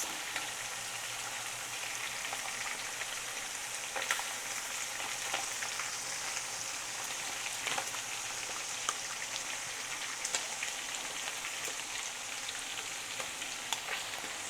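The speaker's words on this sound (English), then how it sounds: "Okay, so now I'll be adding the tomato paste." Tomato paste frying in a pan over medium-low heat for Haitian spaghetti, a dense, even hiss of sizzling that holds steady throughout with occasional faint pops, no talking.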